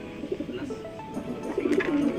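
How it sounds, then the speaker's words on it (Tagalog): Racing pigeons returned to the loft after a fun race in Placer, Masbate, coo softly and repeatedly at close range, their low, throaty calls overlapping in a quiet setting. "Nandito na mga kalapatids ng taga San Fernando."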